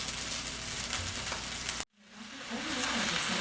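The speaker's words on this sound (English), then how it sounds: "Here we have the vegetable medley that I'm just trying to do a quick stir fry on." A vegetable medley sizzles in a stir-fry pan for Asian vegetable fried rice, a loud continuous hiss that cuts out abruptly, then swells back as frying resumes.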